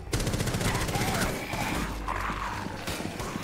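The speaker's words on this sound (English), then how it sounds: "he has a semi-automatic gun, he can stop shooting at any point" Dense, rapid gunfire from a semi-automatic weapon in the Rainbow Six Siege Outbreak mode, loud and continuous with layered shots and game effects across the whole stretch.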